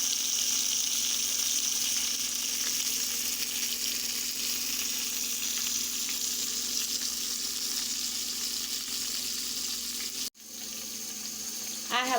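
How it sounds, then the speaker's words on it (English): Homemade onion rings fry in a pan with a steady, loud bubbling sizzle throughout, briefly cut off near the end before resuming. "you can see what these onion rings are looking like while they're frying"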